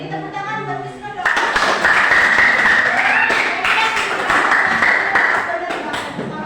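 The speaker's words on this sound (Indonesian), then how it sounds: "Beri tepuk tangan buat Wisnu dong." A school class breaks into loud, dense clapping for a student after a voice speaks, and the applause carries on steadily to the end.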